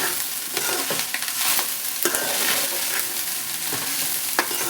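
Pudina (mint) rice tossed and stirred in a pan over high flame, giving a steady close sizzle with repeated scraping and tossing clatters, with no talking.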